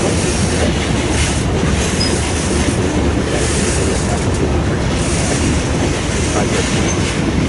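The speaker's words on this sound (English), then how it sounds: "they empty all the cars first, and then once that last thing is empty, they shove it out" Freight train cars being shunted roll slowly in a steady, heavy rumble, with faint wheel squeal and clanking close by.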